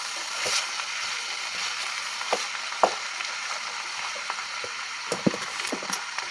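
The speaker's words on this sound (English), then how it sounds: "Give it a little stir" Seasoned food with onion powder, thyme and other herbs sizzles in a pan while a utensil stirs it, giving a steady fry broken by scattered scraping clicks and knocks, with no voices.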